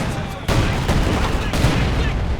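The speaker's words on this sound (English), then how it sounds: "There's a slight artillery barrage." Artillery barrage in the Company of Heroes 2 strategy game, a dense wall of overlapping explosions and gunfire that swells at once and stays loud, with sharper blasts punching through the rumble.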